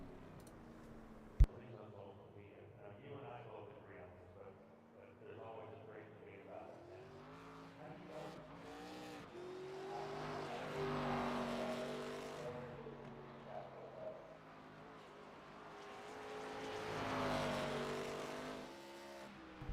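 Race car lapping Five Flags Speedway during practice for a Grand National Pro Series event, engine note rising and falling as it circles, swelling loud twice as it nears, under a commentator's talk.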